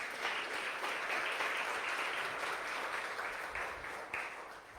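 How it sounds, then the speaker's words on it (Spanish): A church congregation at a worship service breaks into sustained applause, a dense, steady wash of many hands clapping at once that holds evenly and eases slightly near the end. "Dale una ofrenda de palmas a Él."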